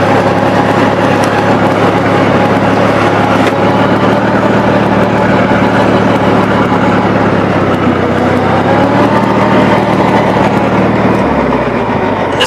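A riding lawn tractor with a 60-inch deck idles steadily up close, its engine holding a low, even drone throughout with a slight shift in pitch near the end; no one speaks.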